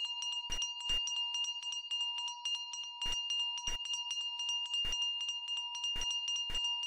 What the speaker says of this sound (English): so the bell is still ringing